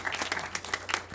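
A few people at a youth job fair orientation clap for Brandon, a short burst of distinct individual handclaps close by, a little uneven in rhythm.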